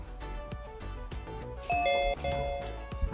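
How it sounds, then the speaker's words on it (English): A short two-tone ding-dong chime rings out as a Zoom meeting is joined on a student Chromebook, bright and clear above a faint background hum. "You hear a little ding dong, and it means you are in the meeting."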